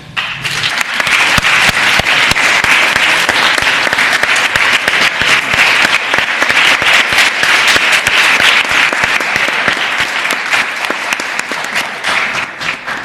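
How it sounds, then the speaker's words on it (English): Delegates in the Virginia House of Delegates chamber applaud the clerk staff, loud, dense, sustained clapping for over twelve seconds, easing slightly at the very end. "So I'd like the chamber to please applaud them."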